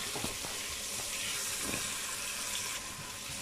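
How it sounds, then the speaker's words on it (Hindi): Spices, tomatoes, green chilli, salt, turmeric, cumin and dried fenugreek leaves frying in a pan with spinach for a turnip and spinach curry, giving a steady close sizzle and hiss with a few soft stirring knocks. "तो इस तरह इस मसाले को जो है अभी हम भूनेंगे"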